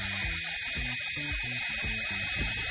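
Portable jet gun air blower fitted with a magnetic dust-removal head, running as a loud, steady high-pitched whine and rushing air, close and continuous.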